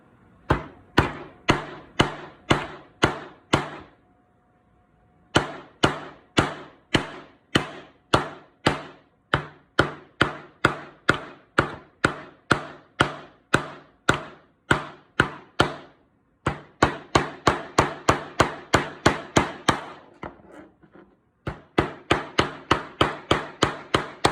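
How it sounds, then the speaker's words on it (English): Steady hammer blows drive nails into wood in quick rhythmic runs, each series separated by brief pauses, loud and close with no talking, during a kids' woodworking build of a toy truck. "just start hammering them in"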